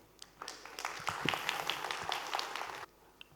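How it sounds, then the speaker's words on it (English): Applause from an audience at the MLDS 2025 AI conference, as hand clapping builds over a second, holds as a modest scattered patter, then stops abruptly, sounding fairly distant and soft. "give a big round of applause to Analytics India"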